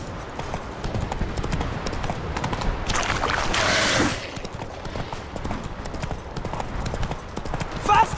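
Rapid clip-clop of galloping horse hooves on the ground in the video game The Witcher 3, a steady rhythmic drumming throughout, with a burst of rushing noise midway and brief voices.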